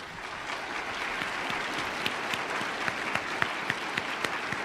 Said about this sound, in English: Soak in that applause, brother.